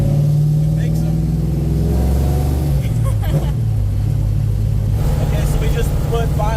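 The Rum Runner car's engine drones steadily from inside the cabin while driving, with a mid-range rumble that dips and picks up again as speed changes.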